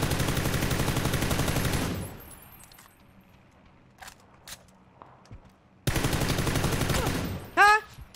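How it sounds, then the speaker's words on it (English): Rapid machine-gun bursts fire at the player in a video game, loud and close. Two sustained volleys are split by a quieter gap with scattered clicks and metallic clinks, and a sharp ricochet-like whine comes near the end. "Ah, getting shot at."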